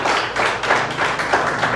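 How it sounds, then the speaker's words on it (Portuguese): A church congregation applauds in steady, continuous clapping that fills the space, a dense wash of many hands beating at once with no voices standing out. "Pode aplaudir e glorificar"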